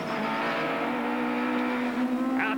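Touring car racing at Donington, 1992 British Touring Car Championship, with a loud sustained engine drone at high speed down the main straight, pitch holding steady and rising slightly, no voices.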